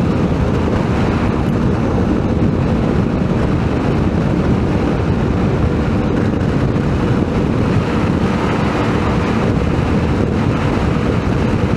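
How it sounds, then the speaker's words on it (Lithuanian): Strong wind buffets the microphone while riding a CFMoto 450MT motorcycle, producing a loud, unbroken roaring rumble that dominates throughout with no speech. "Vėjas irgi šiandien toks nemažas."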